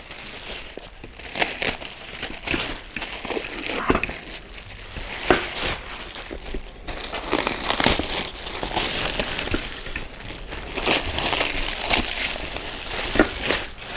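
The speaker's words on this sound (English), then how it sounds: "So we're going to take the plastic off." Plastic wrapping is torn and crinkled off the seat of a GL111D LiteRider riding mower, with irregular rustling, crackling bursts and ripping pulls close up, continuing throughout.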